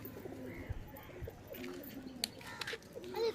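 Soft, low coos of Giribaz pigeons in a loft repeat in a steady murmur over faint background chatter and a few brighter chirps, like a roomful of birds close by.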